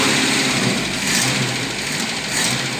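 Engine idling steadily after a full cylinder head replacement, a close, loud, even running note with slight pulsing and no voices.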